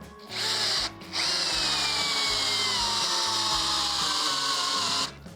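A Procraft PA18BL cordless drill driver runs loudly and close as it drives a 12 mm lag screw, whining steadily for about four seconds with its pitch rising and falling, after a short start and a brief stop.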